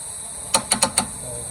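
A torque wrench tightens a brake caliper bolt on a Honda Fit 1.5 during a front brake job, giving four sharp, close metallic clicks in quick succession over a faint background hiss.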